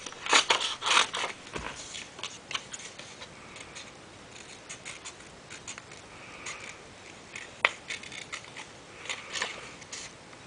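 Scissors snip through paper while elephant pieces are cut out, giving repeated close crisp cuts with a cluster of louder snips at the start and scattered quieter ones afterward.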